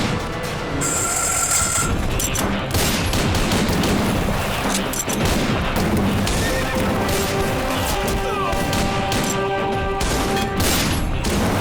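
Gunfire erupts at a wedding in a Hindi action movie, dense bursts of shots and crashes mixed with horses neighing and hooves, loud and continuous throughout with a chaotic score-like wash.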